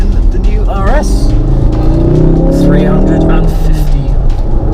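A new Ford Focus RS with a 2.3 litre EcoBoost engine rated at 350 PS drives on a race track, its engine droning loudly and continuously with rising and falling revs while someone talks over it.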